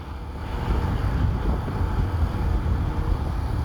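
Steady wind buffeting a microphone during an RKS RK125S motorcycle ride, a broad low rumble that holds at an even level throughout with no talking.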